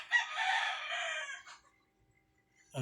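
A Rhode Island Red rooster crows loudly and close by, one long drawn-out call, followed by a pause and the start of another sound at the end.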